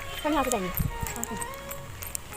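On a street, a dog gives a short, high yelping bark that slides downward, followed by a few faint yips, while people talk close by over the background noise.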